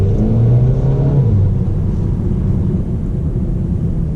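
A 2019 Mercedes-Benz A250 4matic hatchback accelerating on the road, heard from inside as a loud, steady low engine and road rumble with a faint rising tone early on.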